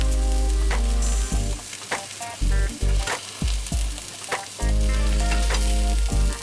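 A courgette dish sizzles steadily in a frying pan, with repeated scrapes and knocks of a utensil working underneath it; no one speaks.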